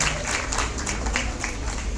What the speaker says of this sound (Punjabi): ਜ਼ੋਰਦਾਰ ਤਾਲੀਆਂ ਨਾਲ ਇਹਨਾਂ ਦਾ ਮਾਣ ਵਧਾਇਆ ਜਾਏ